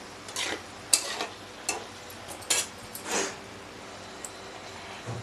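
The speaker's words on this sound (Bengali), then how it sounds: "নাড়িয়ে নেব।" Eggplant, tomato, onion and green chili stirred in a pan, a string of light clicks and scrapes of a utensil against the pan over a faint hiss, close and fairly quiet.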